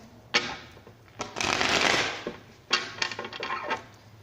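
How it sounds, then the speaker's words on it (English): Tarot cards being shuffled by hand, with sharp riffling bursts, a longer swelling shuffle in the middle and a further run of quick flicks and taps, close and moderately loud with no speech. "Let's shuffle."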